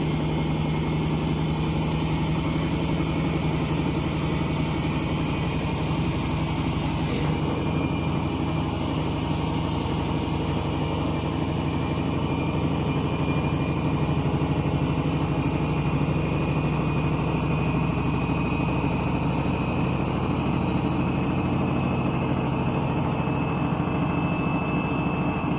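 A washing machine on its spin cycle with worn-out bearings gives a steady, loud droning rumble with a high whining tone held throughout, unbroken and without voices.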